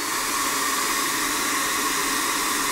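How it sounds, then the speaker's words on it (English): A Gamma Piu Relax Silent hair dryer runs close by at a steady setting, giving a continuous, even rush of airflow that holds constant throughout with no talking. "this is the Gamma Pew Relax Silent Dryer"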